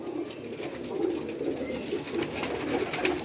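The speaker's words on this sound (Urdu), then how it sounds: "یہ کمگر کبوتر ہے جی ان کا" A kamgar pigeon coos on a Karachi rooftop, soft repeated low coos rising and falling steadily over a faint background hiss, with no talking.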